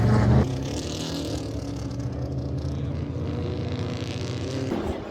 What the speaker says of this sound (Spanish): Los Cobra, los GT40, los Bizarrini, los carrazos del copón.